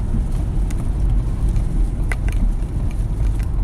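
Cars passing on a city road in Cleveland, a continuous low rumble of traffic with faint tire hiss and a few brief sharper noises, with no speech.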